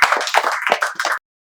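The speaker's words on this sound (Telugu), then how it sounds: "మీకు చప్పట్లతో స్వాగతాన్ని తెలియజేస్తున్నాం" An audience at a spoken English class gives a short burst of close, dense clapping in welcome, lasting about a second before stopping abruptly.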